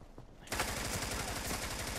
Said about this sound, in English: Where'd that shots come from?